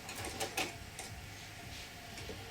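A sewing machine stitches a fabric face mask in a few short, quiet mechanical bursts that come and go, then settle into faint background hum.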